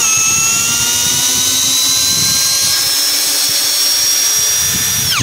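A DEVETECH CS-45 compact cordless screwdriver drives a screw, giving a steady, loud, high motor whine that runs continuously and then winds down at the very end.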